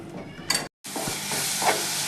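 A tadka of tempering spices fries in a pan for moong masoor dal, a close, loud, continuous hiss and sizzle with a brief utensil scrape and a short cut to silence partway through.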